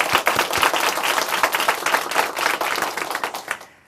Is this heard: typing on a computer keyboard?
no